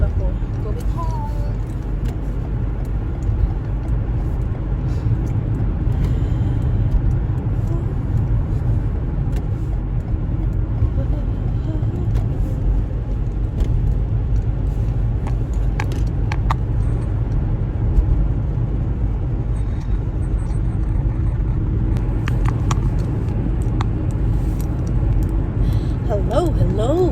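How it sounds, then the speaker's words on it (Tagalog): A car driving at night with a heavy jacket worn inside, the cabin filled with steady low engine and road rumble throughout, with a few faint clicks and rattles along the way. "So ngayon nagdadrive ako going home."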